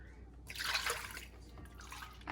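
Two cups of milk are poured for a meal prep, a soft gurgling liquid splash lasting a couple of seconds, close and fairly quiet.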